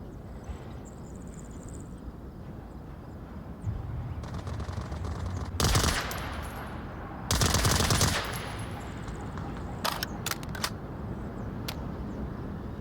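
Gunfire in a video game match: distant sporadic shots at first, then two loud close bursts of rapid automatic fire, followed by a few sharper single cracks over a steady low background.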